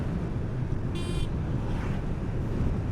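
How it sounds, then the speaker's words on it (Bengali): Motorcycle riding at over 80 km/h on a highway, recorded with a Sunny Life action-camera microphone, a constant loud rushing wind roar with engine drone and a brief high whine. "80+ স্পিডে আমার বাইকটা রাইড করতেছে।"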